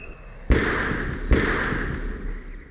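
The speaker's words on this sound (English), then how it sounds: "Oh, the gunshot sounds." Two sharp gunshots ring out in the video game Norco, each a sudden loud crack about a second apart with a long echoing tail that fades slowly.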